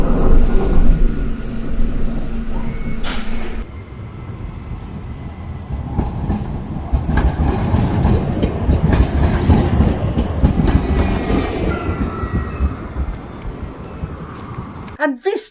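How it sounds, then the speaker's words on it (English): Turin tram running on completely dry track on a dry day with heavy wheel slip, a loud rumbling roar and rattling wheels close by, following a brief muffled announcement at the start. "this tram has got a lot of wheel slip"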